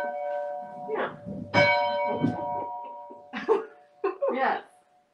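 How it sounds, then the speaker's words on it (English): The original entrance bell at an old Grange Hall rings with a sustained metallic tone that decays across the clip, loud and close, while people talk and chuckle over it. "should we ring the bell now? Yeah. So this is the original entrance and bell."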